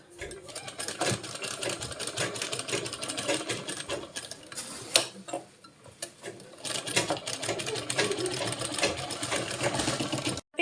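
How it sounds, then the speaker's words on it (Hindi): A sewing machine stitches around the back neck of a blouse, its rapid mechanical whirring running in bursts with brief pauses, close and moderately loud. "मैंने चारों तरफ से सिलाई चला लिया है।"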